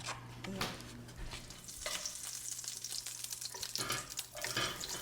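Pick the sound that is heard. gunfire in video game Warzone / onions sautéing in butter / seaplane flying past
onions sautéing in butter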